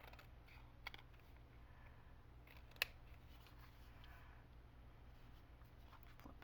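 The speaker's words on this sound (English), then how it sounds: "I want to just trim off this little edge here" Scissors trim a small edge off a piece of paper, making faint, close snips with one sharper click partway through over a low steady background hum.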